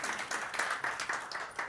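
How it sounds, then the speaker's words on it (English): Audience applause for a keynote speaker at a workforce event, a brief burst of fairly quiet, rhythmic clapping from a smallish crowd. "A big round of applause for Arvind."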